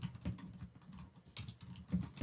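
Code being typed on a computer keyboard: quiet, irregular clicks and taps in uneven bursts, close and soft, with no talking.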